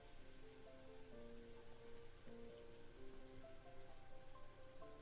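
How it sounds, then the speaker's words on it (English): Soft rain in the visual novel Umineko, a faint steady patter of rain on a surface with quiet tonal music underneath, no voices. "she was wrapped up in the soft sound of the rain"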